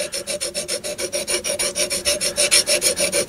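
Steady rhythmic rasping of a file putting a small radius on the corner of a flat-bottom drill, with quick regular strokes, about a dozen back-and-forth passes, close and fairly loud.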